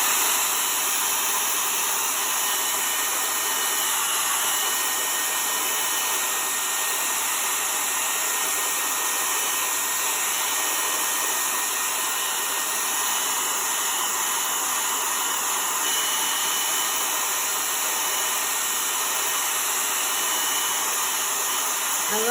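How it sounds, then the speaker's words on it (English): A hair dryer blows steadily at close range over a chalk-paste craft piece, a constant broadband whoosh running unbroken for the whole stretch with no talk. "So we'll blow dry that real quickly."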